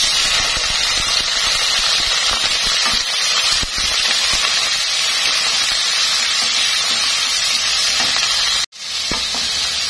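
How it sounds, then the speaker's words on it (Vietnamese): Chicken liver stir-fries in cooking oil over high heat, giving a loud, steady sizzle and hiss that holds for most of the stretch before dropping out briefly near the end. "để mình xào cho gan nó săn, mình khử cái mùi hôi của gan nữa."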